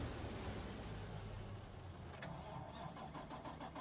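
A combine harvester engine cranks and starts in Farming Simulator 25, a steady mechanical rumble with a faint rising whine and a brief click partway through, played loud and continuous on its own.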